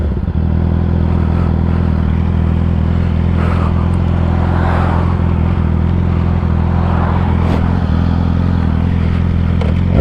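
A Kawasaki Ninja 400 and a Yamaha R6 roar past close by, with a loud steady engine drone and rising, falling passes and no talk.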